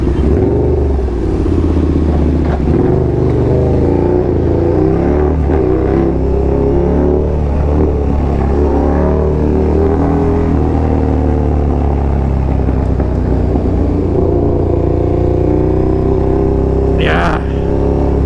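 A KTM Super Duke motorcycle engine runs with a steady low rumble and occasional revs, loud and close, while people talk over it.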